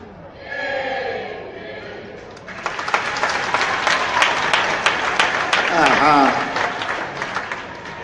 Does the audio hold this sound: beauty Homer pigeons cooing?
no